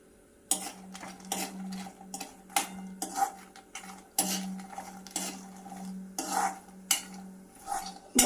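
A spoon or spatula scrapes and clatters against a heavy-bottomed kadai while makhana roasts in ghee. The strokes are repeated and irregular, with sharp metallic scrapes between quiet pauses and a faint sizzle under them.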